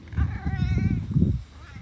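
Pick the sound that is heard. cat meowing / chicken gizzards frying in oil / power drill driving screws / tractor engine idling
cat meowing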